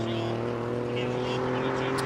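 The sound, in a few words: Alfa car driving in normal drive mode at hillclimb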